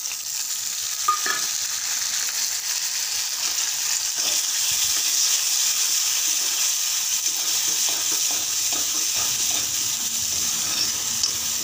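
Tomato fries in oil for a hotel-style mutton gravy, a steady bright sizzle broken by scattered scrapes and knocks of a spoon stirring the pan, close and without speech.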